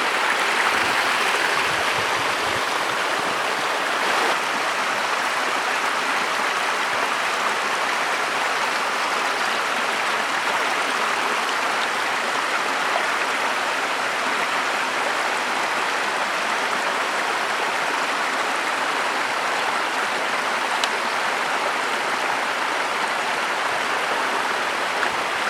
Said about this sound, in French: Là, un beau petit ruisseau là